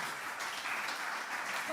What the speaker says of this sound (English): Oh, this is worth an applause.